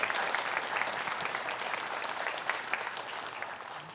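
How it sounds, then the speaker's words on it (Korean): A congregation applauds a combined church choir at an Easter dawn service of seven London-area churches, a steady rain of clapping that stays even before easing slightly toward the end. "다시 한번 성가대 격려의 박수로 하나님께 영광의 박수"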